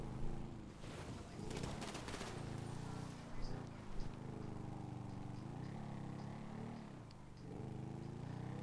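Gunfire in a video game crackles in a rapid burst over a continuous engine-like rumble, with a few scattered single shots afterward.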